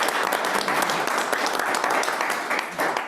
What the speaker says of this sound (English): let's give a heartfelt round of applause to Mayor Lauer for all that you have done